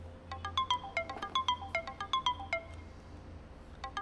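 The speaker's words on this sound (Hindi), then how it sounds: "पाखी का फोन बजता है।" A mobile phone ringtone plays a bright, repeating electronic melody of quick chiming notes that pauses briefly, then starts again, heard clearly with no talking.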